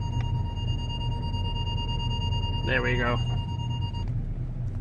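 A Ford Galaxy's front parking sensor sounds a steady electronic tone that holds unbroken for about four seconds while a person says a few words, then it cuts off, leaving low engine rumble.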